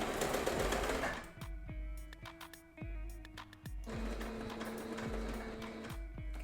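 A sewing machine stitches fabric in short bursts of fast mechanical whirring that start and stop several times, heard up close with no talking.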